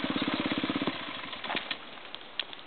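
A motorcycle engine putters with a rapid, even pulsing beat for about a second, then cuts out, leaving scattered faint knocks and rustles.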